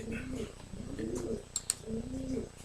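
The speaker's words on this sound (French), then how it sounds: "Ah, c'est le dernier pigeon, c'est le dernier." Pigeons cooing in soft, repeated rolling calls at a racing-pigeon clock-in, close by and fairly quiet, with a couple of brief sharp clicks partway through.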